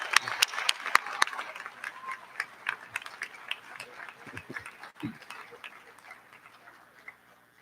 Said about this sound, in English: can we please give a round of applause to our veterans?